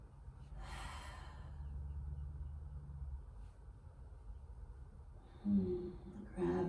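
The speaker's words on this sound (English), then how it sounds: "take a few more deep breaths" Slow, deep breathing during a spring yoga flow: a soft, breathy exhale early on, a long quiet stretch, then a couple of closer, louder breaths near the end over a low background hum.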